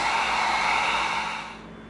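Heat gun blowing hot air over small EVA foam detail pieces for a kukri prop, a steady loud whoosh that tapers off near the end, with no talk.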